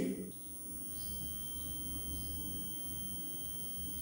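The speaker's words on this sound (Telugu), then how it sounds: "ఇక్కడ బజర్ అనేది వస్తుంది." A multimeter in continuity mode buzzes while testing an electronics switch, giving a faint, steady high-pitched tone that holds through the clip after a brief louder burst at the start.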